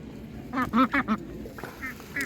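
Meat ducks at a rural animal market quacking in a short burst of four honking calls close by, followed by a couple of fainter quacks, over low market background noise.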